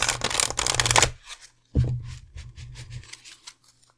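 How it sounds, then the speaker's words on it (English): Oracle cards are drawn and shuffled for a Halloween pick-a-card reading, a dense papery riffle for about a second, then a softer rustle and several light card slaps and flicks, close and with no talking. "So first up, let's draw your oracle cards, pile number twos."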